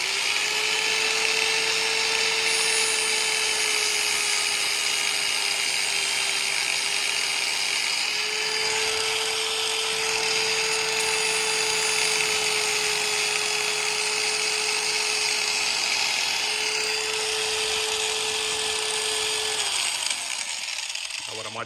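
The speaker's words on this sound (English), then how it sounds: "I figure I'll just go with the flap disc and just sort of smooth it around" An angle grinder fitted with a flap disc smooths a home-made carbon fibre engine mount for a 2000 YZ250, whining at a steady high pitch close by for about twenty seconds before winding down at the end.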